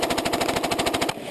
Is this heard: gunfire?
yes